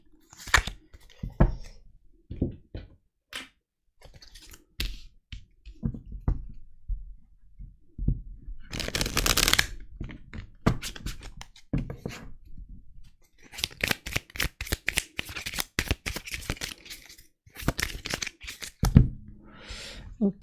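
Tarot cards are shuffled and dealt in soft, irregular riffles and slaps, close by, with pauses and someone speaking French between bursts.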